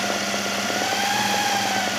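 A sewing machine motor runs continuously at steady speed, a loud close buzzing drone with a fast, even mechanical patter and no voices.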